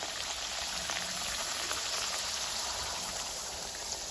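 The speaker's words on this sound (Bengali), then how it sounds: "তেলটা গরমও হয়ে গেছে। এখন আমি এক এক করে পরোটাগুলো দিয়ে দেব।" Paratha frying one by one in hot oil in a kadai on a gas stove, a steady, even hiss and crackle filling the clip without pause.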